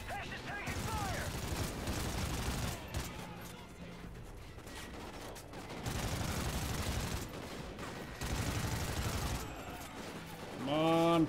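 Gunfire in the Call of Duty: Ghosts video game: rapid bursts of automatic fire and crackling shots in several loud waves, with voices shouting between them.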